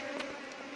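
Bees buzz in a steady, close drone during a queen-bee transfer, with no voices.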